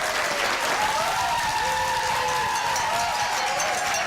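Audience applause at a televised high school quiz competition, a dense, steady wash of clapping throughout, with a faint tonal hum running underneath.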